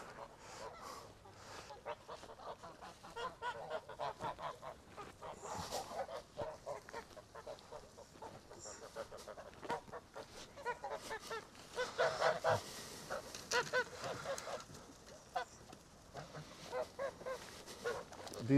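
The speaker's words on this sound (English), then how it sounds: "These are this year's geese" Several geese honking and calling in bursts, a noisy flock chattering nearby with irregular loud honks and some background noise.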